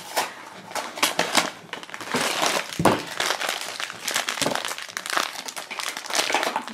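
Crinkly plastic blind-bag packaging around a Pusheen Gund plush is handled and pulled open, making loud, close, irregular crackling and rustling bursts with no talking.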